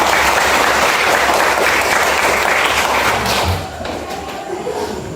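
A classroom audience applauds together during a lesson, a dense, loud burst of clapping that carries steadily and eases slightly toward the end.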